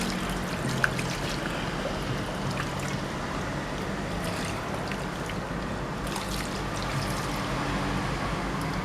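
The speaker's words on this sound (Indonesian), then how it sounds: "seperti ini sudah gabusnya kita siram sedikit" Steady, continuous splashing and trickling of water poured over a cleaned snakehead fish, close by and fairly even throughout, with no talking.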